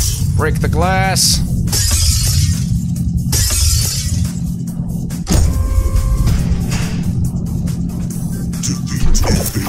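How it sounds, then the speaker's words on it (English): Glass shatters loudly in the video game Automatrons: Shoot and Drive, bursts of breaking and crashing amid engine-like drones and electronic game effects, with voices talking over the action. "Break the glass!"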